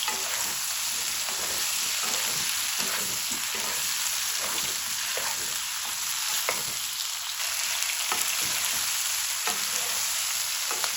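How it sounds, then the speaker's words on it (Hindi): Green peas frying in oil over medium heat make a steady, dense sizzle that carries on throughout, with faint stirring scrapes underneath. "मीडियम आंच पे आपने पकाना है, इनको फ्राई करना ऑयल में।"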